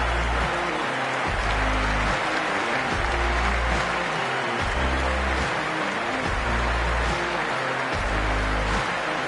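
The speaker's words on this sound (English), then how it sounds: "already the crowd is up and about" Stadium crowd at a The Hundred cricket match between Trent Rockets and Northern Superchargers, a dense, steady roar of cheering and applause that stays loud and continuous throughout, with repeating low-pitched pulses underneath.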